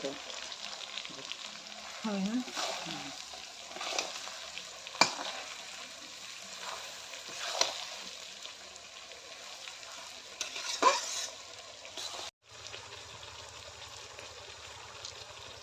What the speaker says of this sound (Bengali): তেলের মধ্যে যে রসুন বাটনাটা আমি দিয়ে দিয়েছি আর সাথে হলো চিনি যে দিয়ে দিয়েছি সেই চিনির মধ্যে আমি দেখো লঙ্কাগুলো ছেড়ে দিলাম